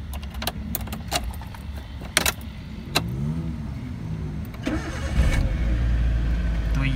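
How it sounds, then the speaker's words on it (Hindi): A Suzuki Cultus VXRi hatchback is unlocked with a few key jangles and clicks, then the engine cranks and catches, settling into a steady close idle. "अब मैं आपको गाड़ी स्टार्ट करके दिखाता हूँ।"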